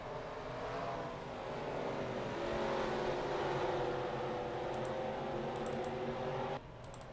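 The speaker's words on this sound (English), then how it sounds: "Drivers, start your engines!" Race car engines in a racing video game roar together in a steady, dense drone that swells slightly and then drops off abruptly near the end.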